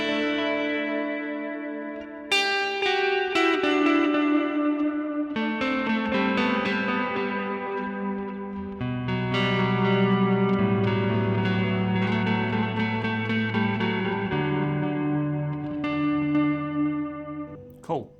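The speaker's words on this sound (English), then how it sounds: "let's put on the delay and the reverb" Electric guitar notes and chords, run through a Line 6 Helix, ring out with a repeating delay and lush reverb, each strum trailing off in echoes, played alone without talking.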